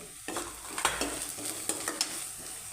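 Turmeric powder stirred into vegetables frying in oil in a North Karnataka-style palya, with a steady sizzle and a few scrapes of a spoon through the pan, close and alone.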